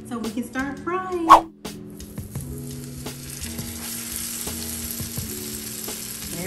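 Jackfruit Nashville hot chicken frying in oil, a steady broadband sizzle that settles in after a brief burst of voice and clatter at the start, with music running underneath.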